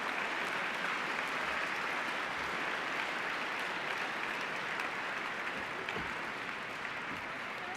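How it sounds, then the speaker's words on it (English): Audience applause for the top 16 schools at a National Science Bowl awards ceremony, a steady dense wash of many hands clapping at a fairly even level throughout, with no voices over it. "Nice round of applause for our 16 top schools."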